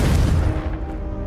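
A fiery Confringo blast in Hogwarts Legacy lands as a loud booming burst, dense low rumble, then decays into a fading rolling tail.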